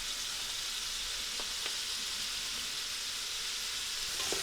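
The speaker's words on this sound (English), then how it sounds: "While our sofrito is cooking" Sofrito sizzles in a pan, a steady close frying hiss with a few soft clicks and pops, no talking.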